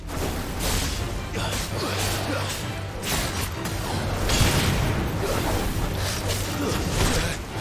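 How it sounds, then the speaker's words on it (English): Vacuum ability effect in Final Fantasy XVI: a steady, loud rushing swirl of whooshing energy with crashing and booming combat hits layered over a low rumbling bed of game music throughout. "Here comes the vacuum, being all vacuumy again."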